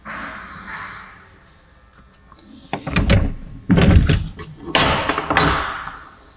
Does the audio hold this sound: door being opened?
yes